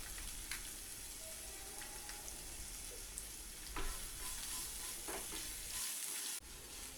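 Chopped garlic, sliced onion and a pinch of asafoetida sautéing in a pan for spinach rice, a continuous close sizzle with scattered spatula clicks and scrapes.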